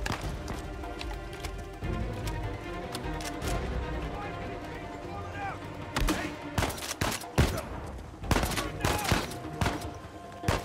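Enemy gunfire in the video game Uncharted 4: a steady rumble of game ambience and music gives way after a few seconds to dense, close bursts of sharp shots, with a voice talking over parts of it.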